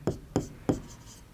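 Chalk or marker writing on a board during a Class 10 maths lesson on surface area and volume. Three quick, close strokes tap and scrape in steady succession against a quiet room.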